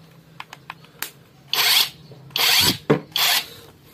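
Modern M65 cordless impact wrench run at speed 1, a few light clicks followed by four short loud whirring bursts of the motor, close up and without voices.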